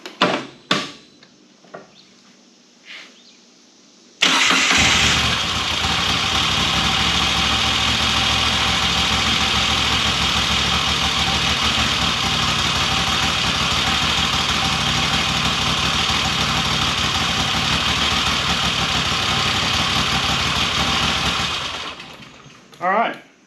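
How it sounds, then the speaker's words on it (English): A Moto Guzzi V85TT motorcycle engine with the seat off cranks and catches at about four seconds, then idles loud and steady for nearly twenty seconds before shutting off, with faint handling noises before and after. "I'm going to start this up with the seat off"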